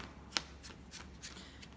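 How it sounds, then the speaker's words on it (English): A deck of Yu-Gi-Oh trading cards is riffle-shuffled close up in a series of soft, quick flutters with one sharper snap, quiet and with no talk. "So shuffle, shuffle, shuffle."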